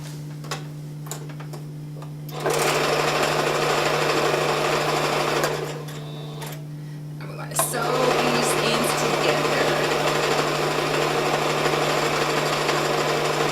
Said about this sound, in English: I'm going to start sewing my pillow together.